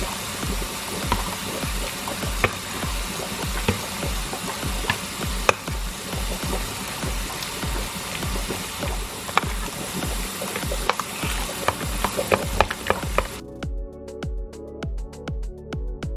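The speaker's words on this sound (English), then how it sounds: "We're gonna mix this all together." Parmesan cheese is stirred into a lasagna filling, giving a steady run of close, wet scraping and clicking strokes of a utensil against the bowl for most of the stretch before the sound stops abruptly.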